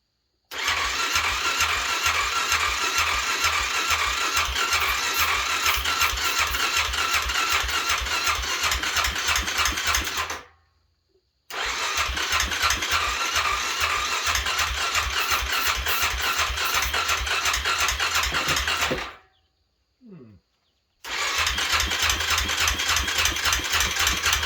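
A 2009 Suzuki QuadRunner 400 4x4 ATV in junkyard condition, choke on and primed with starting fluid, starts and idles with a steady, loud mechanical chug, cuts out twice into silence and fires back up each time.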